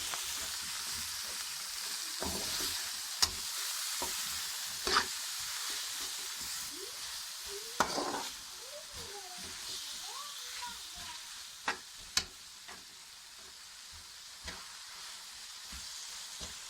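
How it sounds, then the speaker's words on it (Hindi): Carrots, potatoes and peas stir-fry in a pan, a steady sizzle broken by sharp clacks of the spatula and scraping strokes, while a voice murmurs faintly in the background. "अब इसमें गाजर, आलू और मटर शामिल कर लेंगे और इनको थोड़ा सा भून लेंगे।"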